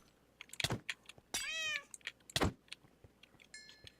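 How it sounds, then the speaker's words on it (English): A Wither Cat mob in a Minecraft modpack lets out a couple of short, nasal meows, rising and falling, mid-distance over faint game ambience, with clicks and a brief electronic chime near the end. "And the Wither Cat that is super annoying and dangerous."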